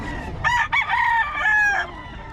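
A Sweater Kelso gamefowl rooster crows once up close, a loud ringing call of about a second and a half that opens with a short burst, breaks briefly, then holds a long, even note before cutting off.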